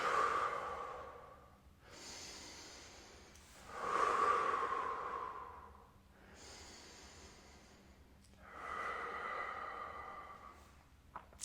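Three slow, deep breaths are taken during a hip mobility exercise, each a long airy inhale and exhale with quiet pauses between them, close and soft with no talking.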